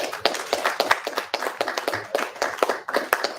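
A small group claps after a Torah portion reading, giving distinct, uneven hand claps at close range in a loose, lively rhythm.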